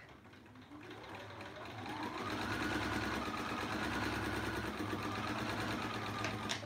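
A sewing machine runs steadily while stitching a leader and ender quilt, its motor hum close and continuous, rising slightly in speed after the first two seconds and holding a constant whir to the end.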